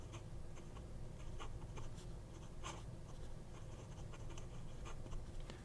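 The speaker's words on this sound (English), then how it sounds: "Fine nib. It's a gusher, folks. So smooth." A Hongdian fountain pen with a stiff fine nib and an old-style feed writes on paper, a soft, quiet scratching of short strokes that continues steadily with small pauses in a hushed room.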